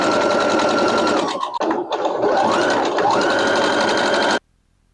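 A sewing machine stitches a pair of pants at a long stitch length with a steady, close, fast whirring hum, a brief stutter midway, then continuous running before it stops abruptly near the end.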